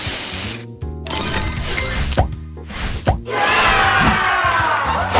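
Spray booster effect from the mobile match-three game Match Masters, a dense sparkling spray and clinking burst over steady game music, with short tonal stabs breaking through near the start and middle.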